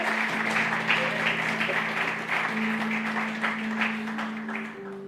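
A church congregation breaks into steady applause, the clapping dense and continuous throughout, backed by sustained keyboard or organ chords and some voices mixed in.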